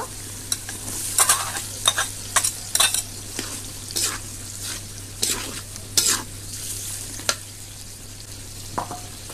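Boiled potatoes are stirred into spice masala frying in a pan for chickpea curry, with irregular scraping spoon strokes over a steady, low sizzle.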